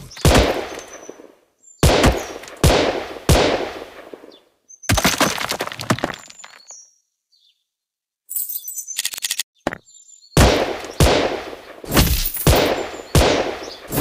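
Gunfire in the mobile shooting game Gun Spirit comes as loud bursts of rapid shots separated by short pauses and silences, with a few brief sharp cracks and electronic blips between volleys.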